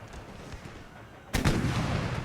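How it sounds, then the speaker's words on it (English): Cannon volley in Empire: Total War, a sudden loud roar of artillery erupting partway through after quiet battlefield ambience, then sustained rumbling fire. "And I'm telling the cannons to open fire down there."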